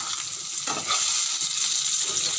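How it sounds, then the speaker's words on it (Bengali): Potatoes fry in hot oil in a pan on a home stove, a steady bright sizzle with a brief stirring scrape partway through, close and fairly loud. "আর এদিকে দেখো আলু ভাজা চলছে।"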